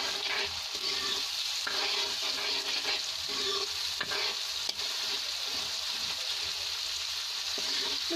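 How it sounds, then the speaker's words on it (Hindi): Spice masala for radish kofta fries and sizzles in a pan while being stirred, a steady close crackle broken by scraping stirs, with no talking over it. "मसाले को हमें हल्का भूनना है ताकि हमारा मसाला अच्छे से भून जाए"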